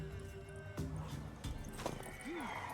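A mare in The Witcher 3 snorts and neighs briefly amid a few hoof thuds and ambient rustle, fairly faint and close.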